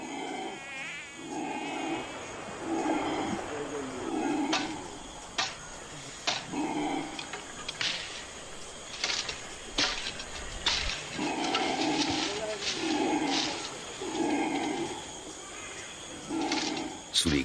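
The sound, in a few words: howler monkeys crying in protest in the jungle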